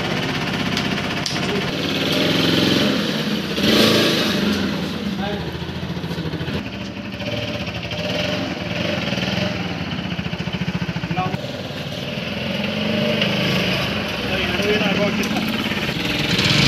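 An RS 200 motorcycle engine runs steadily after six months of sitting, a continuous mid-range idle with a slight rev rise near the start, while people talk over it throughout.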